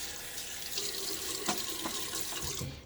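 Hard, tepid tap water runs steadily into a sink while someone wets their face for a shave, a constant close hiss broken by a few soft splashes of cupped hands.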